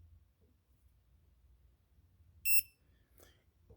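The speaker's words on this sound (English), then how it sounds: "if there's power there, it's going to give you a beep." Non-contact voltage tester beeping near a live electrical outlet: one short, sharp high-pitched beep, then a fainter brief chirp, over a quiet low background rumble.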